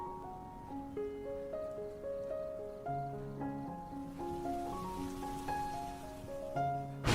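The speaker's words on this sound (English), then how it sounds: "the sound of rain began to pitter-patter on the green banana leaves in the garden" Rain patters on green banana leaves in a garden, a soft, steady drizzle texture beneath gentle melodic music with held notes.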